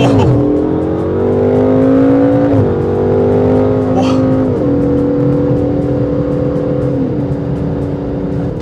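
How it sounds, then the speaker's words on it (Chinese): An Aston Martin DBS Superleggera GT in Sport Plus mode revs loudly up close, its engine note climbing and then dropping in several stepped downshifts as the gearbox kicks down under light throttle. "我只要稍微踩点油门，它就疯狂退档"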